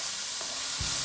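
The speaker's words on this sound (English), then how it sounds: "So I'm gonna saute these onions just a little bit." Onions sautéing in oil in a pan for beef and broccoli, a soft steady sizzle with a brief stirring scrape near the end.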